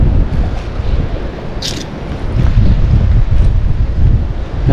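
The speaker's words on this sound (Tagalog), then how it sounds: "Lakas ng hangin ah." Strong wind buffets the microphone outdoors by the water where milkfish are being caught, a loud, rumbling roar that gusts steadily throughout, with no talk.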